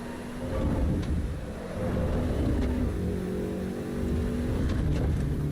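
A race car in Assetto Corsa Evo drives the wrong way around the circuit, its engine a steady, moderately loud drone that swells and passes with no talking.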